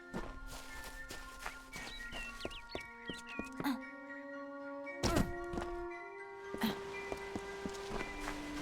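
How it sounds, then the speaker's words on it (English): Chickens in the video game Kingdoms of Amalur: Re-Reckoning cluck softly in short repeated bursts, mixed with game music tones and a few thuds, fairly quiet overall. "Chicken friends, hello."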